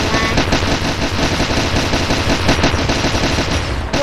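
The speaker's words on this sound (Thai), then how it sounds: "ลูกกับพ่อช่วยกันยิง" Rapid automatic gunfire in a Roblox war game against robots, a dense, continuous machine-gun burst with fast overlapping shots running loud and unbroken for about four seconds.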